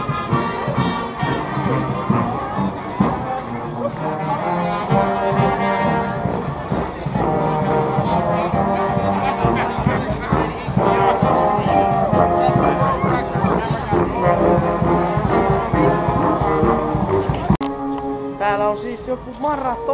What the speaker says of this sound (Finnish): Mutta täällä on hei, Alppitorvet.